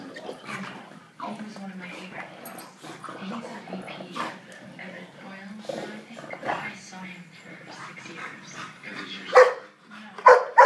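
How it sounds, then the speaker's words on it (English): A single dog barks, yips and whimpers in an irregular series of sharp bursts, fairly close, with the loudest barks near the end and a voice speaking at times. "A lot of noise coming from one dog there, Puddin."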